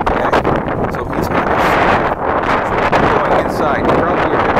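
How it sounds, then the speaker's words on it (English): Strong gusting wind during a bomb cyclone storm on the US east coast, roaring and buffeting the microphone continuously and loudly throughout, with a broad rushing noise that never lets up. "Probably a bit hard because it's really windy."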